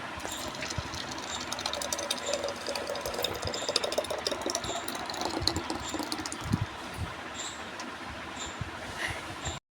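A kitchen mixer grinder blends muskmelon pieces with sugar, giving a steady whirring motor drone with a gritty churning edge that runs unbroken for about ten seconds.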